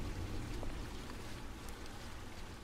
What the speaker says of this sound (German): Oh, hier kommt auch Wasser runter.